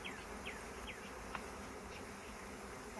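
Honey bees buzz around an open hive during smoking, a steady low hum running throughout with a few brief chirping insect sweeps near the start.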